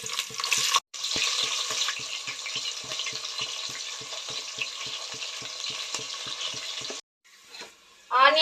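Onions fry for a vegetable biryani in a steady, close hissing sizzle with regular light ticks of stirring. The fry cuts off abruptly near the end, followed by a brief quieter rustle and clatter.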